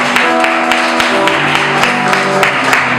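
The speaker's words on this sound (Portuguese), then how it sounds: "dê uma grande salva de palmas para o Senhor" Congregation applauding the Lord after a worship service, with steady, dense clapping and sharp individual claps standing out in a regular rhythm over a sustained musical backdrop.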